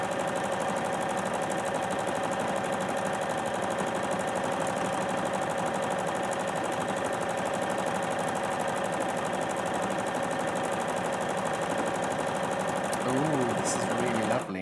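A Juki HZL-NX7 sewing machine stitching an embroidery font: a steady, fast mechanical whirring and needle clatter that runs unbroken and fairly loud for about fourteen seconds before it stops.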